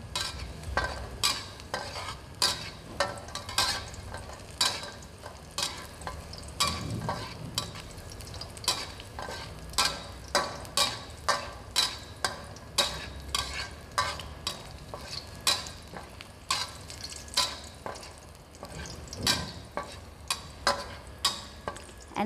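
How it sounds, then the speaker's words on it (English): Garlic stir-frying in cooking oil, with regular scraping strokes of a spatula or spoon against the pan over a steady low sizzle, close and moderately loud, no voices. "We stir fry garlic with cooking oil until we get fragrant smell."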